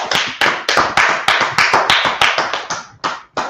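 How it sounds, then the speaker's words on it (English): A class claps hands in applause, loud, sharp claps in a fast, steady unison rhythm, about fifteen beats close to the microphone, slowing and fading out at the end. "Clap it up for the class."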